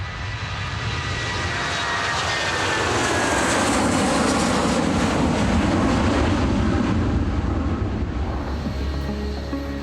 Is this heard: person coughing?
no